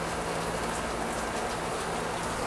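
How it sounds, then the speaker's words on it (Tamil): Heavy rain falling outdoors by a small home garden, a dense, steady hiss of drops on surfaces, loud and unbroken throughout with no voices. "இன்னைக்கு இங்க நல்ல மழை பெய்யுது."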